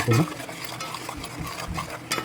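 Spoon stirring red chilli powder and turmeric masala roasting in a pan for Maharashtrian crab curry, with soft scraping and light sizzle throughout, a few louder clinks near the start and end, close and steady.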